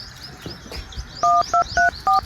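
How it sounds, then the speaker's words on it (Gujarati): A telephone keypad dials a number: four crisp DTMF tone beeps in quick succession, loud and close, following some soft household background noise. "હા મંગાજીને ફોન કરો"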